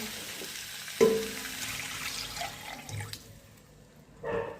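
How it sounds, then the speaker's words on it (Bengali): Water poured into a pan of potato and cauliflower curry after the spices are fried, a sharp splash followed by a low continuous pouring and bubbling that fades, then a short final splash. "মশলা দিয়ে ভালো মতো কষিয়ে নেওয়া হয়ে গেছে, এখন জল দিয়ে দেব।"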